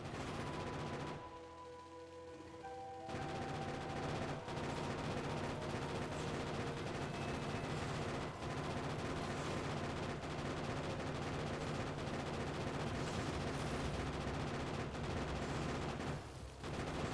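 Steady, dense gunfire from the video game Factorio while a biter nest is shot down, a loud continuous barrage of rapid shots layered over game music and engine hum for the whole stretch.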